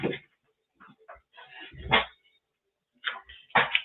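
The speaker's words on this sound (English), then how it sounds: "My dogs are very noisy when they want to come in." Several dogs wanting to come inside bark and yip loudly nearby in short bursts, with whimpers and pauses of silence between the sharp barks.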